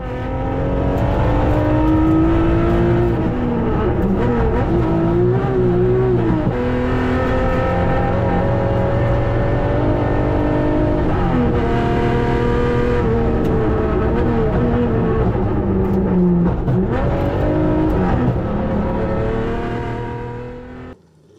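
A Datsun rally car is heard onboard on a classic safari rally stage in East Africa, its engine loud and steady for about twenty seconds, rising and falling through gear changes and revs, with no talk.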